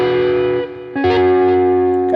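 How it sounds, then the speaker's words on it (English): Two chords ring out on an electric guitar through a heavy distortion effect. The first sustains, then the second is struck sharply about a second in and holds loud and close, with no talking. "a little more distortion than I want here."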